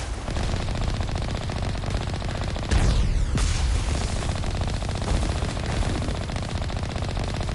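Continuous rapid gunfire in the Mass Effect video game, a dense loud burst of automatic shots filling the whole stretch, with a heavier blast near the middle.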